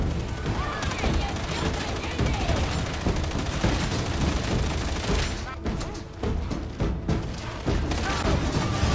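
Heretics' gunfire in the video game Darktide crackles in dense, rapid volleys of automatic shots and booms, loud and nearly continuous, with a brief lull before firing resumes and voices speaking over the battle.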